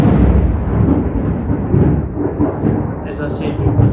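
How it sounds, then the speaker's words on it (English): Thunder from a thunderstorm in miserable weather rumbles low and heavy throughout, a loud rolling growl that swells and recedes, with some speech mixed in. "you can hear the thunder and lightning in the background"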